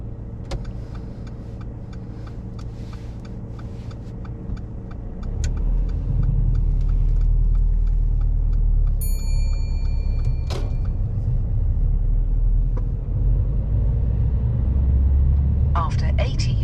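A car pulls away from the kerb on a driving test, its engine rumble swelling after a few seconds into a steady low drone, with a short whirring sound midway and a brief chime near the end.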